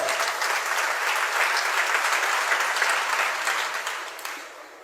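Steady, loud applause from a large audience at a religious discourse on Independence Day, continuous for several seconds before tapering off at the end.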